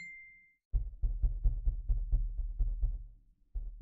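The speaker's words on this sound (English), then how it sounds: "Let's see if I tap on the bar if it makes sounds." Dull, close knocks from fingers tapping the boom arm of a HyperX Quadcast microphone, about ten muffled thumps in an uneven rhythm, each with a short resonant tail.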